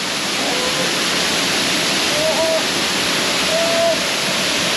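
The large Sitatoton waterfall in Khok Si Suphan district, Sakon Nakhon, pours with a constant loud, close rushing roar, broken only by faint brief tonal chirps.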